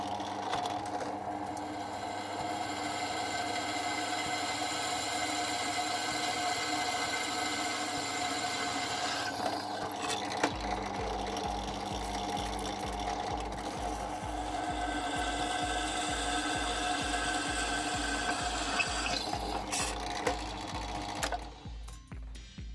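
A power drill bores holes through steel for a homemade Ford Falcon coil spring press, with a continuous whirring grind. Partway through, a fast rhythmic chattering pulse joins in, and the sound cuts off near the end.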